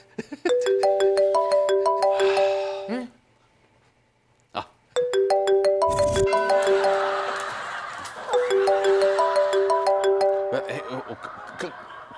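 A mobile phone ringtone plays a loud, close, repeating melodic tune, stops for about two seconds, then starts again and keeps ringing under a faint background wash.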